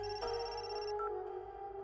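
A phone's ringtone for an incoming call, a steady electronic melody with sustained tones that plays continuously, clear and fairly close, with no talking over it.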